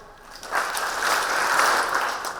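An audience in a lecture hall claps hands together during an education talk on diversity and inclusion, a steady wash of many hands that swells after a quiet start and holds at a moderate level with no voices.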